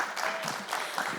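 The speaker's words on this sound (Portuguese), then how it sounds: "peço a vocês uma salva de palmas" An audience at a solar energy conference applauds a vice-president called to the stage, a brief, steady patter of clapping at moderate loudness.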